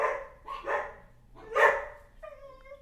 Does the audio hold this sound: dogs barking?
yes